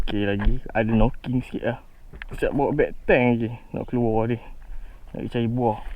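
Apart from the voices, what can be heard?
None of the usual background noises is heard.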